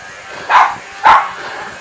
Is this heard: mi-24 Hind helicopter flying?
no